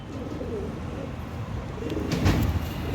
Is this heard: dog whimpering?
no